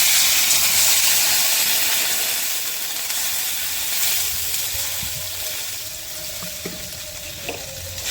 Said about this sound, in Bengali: ডাটা আলুটা ভেজে নিয়েছি পরিমাণ মতন জল দিয়ে দেবো